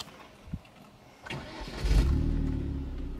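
Car with manual transmission cranking briefly after a few faint clicks, then catching and settling into a loud, rough idle close by.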